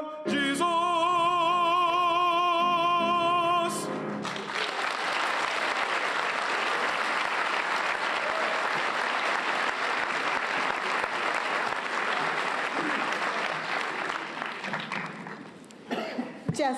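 An audience at a welcome convocation for an interim chancellor bursts into sustained applause that fills the hall for over ten seconds, dense clapping that fades near the end, after a brief stretch of music or voices.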